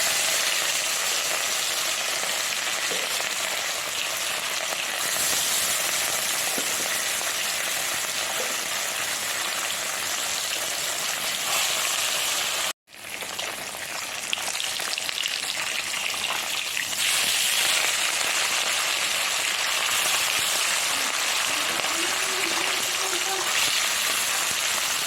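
Fish roe sizzles and fries in a hot wok, a loud continuous crackling hiss close up that runs throughout with a brief cut in the middle, and a faint voice now and then underneath.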